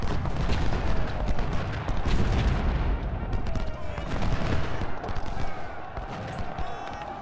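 Continuous battlefield gunfire from a video game crossfire, dense overlapping musket-style volleys and booms at steady loud level throughout, with some speech mixed in.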